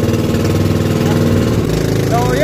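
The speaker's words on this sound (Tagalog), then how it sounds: "So hindi masyado malakas tumakbo ang aming bangka kasi yung engine 7 HP lang mga guys." A small 7 HP engine drives a fiberglass boat in Cebu, Philippines, a steady close putter that hums on without a break while someone talks over it.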